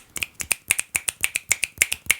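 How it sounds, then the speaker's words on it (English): Fourteen or so crisp, wet-sounding finger snaps ring out close and loud in a fairly steady, brisk rhythm, each a sharp click with a quick decay, and no voices over them. "That's a wet snap for you."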